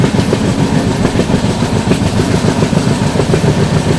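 The 12141 Patliputra SF Express runs on the rails toward Patna Junction, heard from aboard as a loud continuous rumble with steady rhythmic clickety-clack of wheels over rail joints, no voices.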